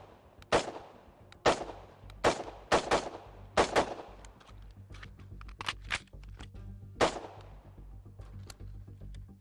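Rapid, loud gunshots from a tactical carbine at a shooting range come in an uneven series of about eight cracks, some in quick pairs, followed by a few fainter distant shots.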